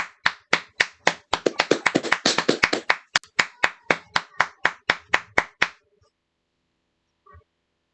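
A single person claps at a steady rhythm, about two dozen crisp, close claps at the start of a Zoom meeting welcoming Kumar Anupam, dense at first and then more spaced before stopping into silence.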